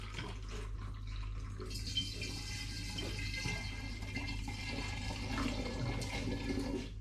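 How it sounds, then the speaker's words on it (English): Spring water is poured through a funnel to rinse out apple pulp, making a steady, quiet watery rush and trickle that swells slightly partway through, with no voices. "I'll just use a bit of spring water to wash the funnel through."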